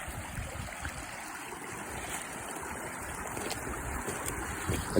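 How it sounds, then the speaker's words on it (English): Strong water pouring through a beaver-dammed lake spillway, a steady broad roar and rush that stays loud and unbroken throughout, close by with no talk. "I don't even know how to calculate how much water flow that is"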